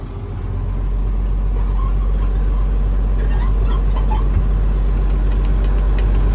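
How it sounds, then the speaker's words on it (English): An International 4900 truck engine idles steadily nearby while building air pressure, a deep constant rumble with faint mechanical ticking and no voices. "Before I begin my brake tests, I'm going to let my truck build up air pressure."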